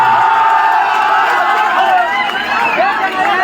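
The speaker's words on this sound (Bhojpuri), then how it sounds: "मेरे गुरुओं के लिए एक जोरदार तालियां" A large crowd at a Bhojpuri stage show with Khesari Lal Yadav and Ajit Hulchul cheers and applauds loudly, with whoops and shouts rising over continuous clapping and babble.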